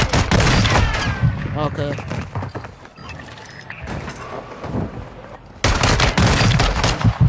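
Rapid gunfire comes in heavy, dense bursts during a Warzone gulag fight in a video game. The shots fill the start and the end with a quieter gap in between, and a voice speaks briefly near the middle.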